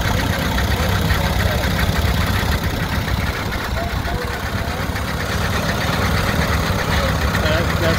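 Engine of an antique Oliver tractor running at a steady idle, a continuous low rumble that holds level throughout, with faint voices in the background.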